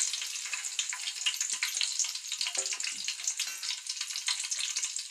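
Cumin seeds sizzle in hot oil in a pot on a gas stove. A soft, continuous crackle and spatter carries on evenly throughout, fairly faint and alone, with no voices.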